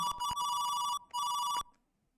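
Electronic telephone bell ringing in the Commodore 64 game Yes Prime Minister, two loud bursts of rapid warbling rings separated by a short gap, then fading to silence.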